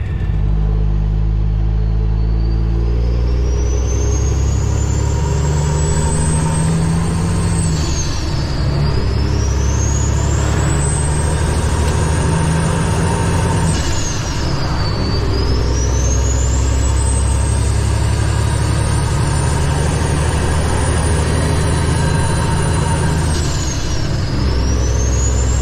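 A semi truck rolls along a road with a deep, heavy engine rumble throughout. The engine note climbs through the gears in repeated rising sweeps, each falling back at a gear change, with steady road noise and no talking.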